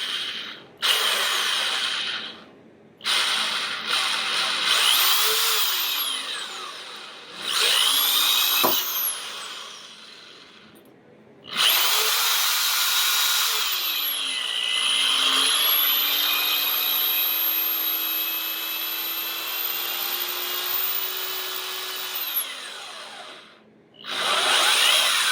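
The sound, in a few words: drilling through metal PC case with cobalt drill bit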